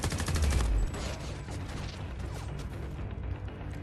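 Gunfire rattles in Homefront: The Revolution, a fast burst of shots up front that gives way to scattered, quieter shooting and mechanical clatter.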